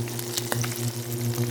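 A steak sears in a hot pan, a steady close sizzle and crackle with a continuous low hum underneath and small popping spikes throughout, no talking.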